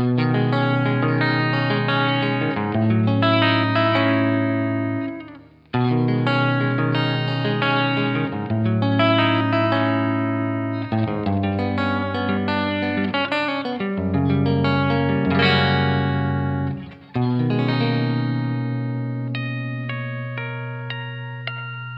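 Epiphone Les Paul Ultra-III guitar through the mono output, strummed chords and riffs with chorus and reverb, full and sustained, played steadily at close range, with two brief breaks.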